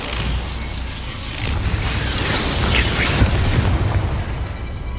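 Bombarda and Confringo explosion spells in Hogwarts Legacy go off as a dense, continuous roaring blast with crackling bursts, loud and sustained for several seconds without speech.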